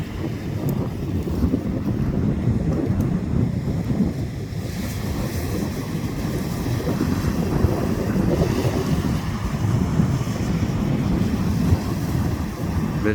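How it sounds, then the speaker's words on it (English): Powerful water surging out of a river mouth into breaking waves, a steady, dense rushing roar with heavy wind buffeting the microphone throughout, no voices. "just goes to show the strength and the power of this water that's coming out"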